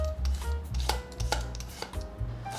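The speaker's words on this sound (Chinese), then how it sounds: "把芹菜的粗纤维削掉" A knife peels the tough fibers off a stalk of celery, making short, close scraping and tapping sounds in quick irregular strokes over a faint low hum.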